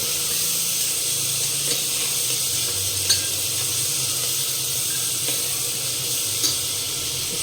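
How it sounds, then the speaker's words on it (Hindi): Onions fry steadily in a pan with a constant broad sizzle, with occasional soft clicks of a metal strainer stirring them, no talking. "तो इसमें हम प्याज को डाल देते हैं"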